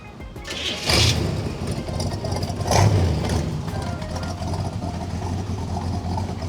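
A 1967 Chevrolet Corvette big block engine cranks and fires, giving two loud surging revs a couple of seconds apart before it settles into a steady, lumpy idle close by.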